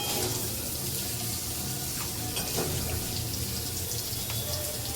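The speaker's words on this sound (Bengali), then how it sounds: "গরম জলেই স্নান করাচ্ছি পনিরটাকে" Warm water pours steadily while a pet named Paneer gets a bath, a loud continuous splashing gush close by with no voices.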